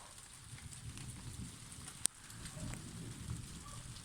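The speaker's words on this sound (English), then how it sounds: "Gosh, it's raining heavily now." Heavy rain pours steadily during a thunderstorm, a dense hiss of drops with one sharp crack in the middle and no talking.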